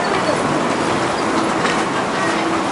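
Sound Transit light rail train pulling into a Seattle station, a steady loud rumble of wheels on rails with faint squeals and clatter throughout, near and continuous.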